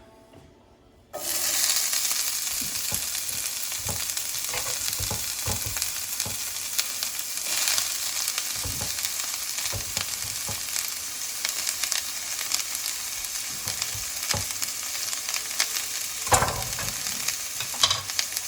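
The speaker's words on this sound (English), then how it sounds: "So we're going to start adding the onions." Onions hit hot oil after a quiet second, bursting into a loud, steady sizzle that carries on with scattered crackles and scraping stirs, close up and alone.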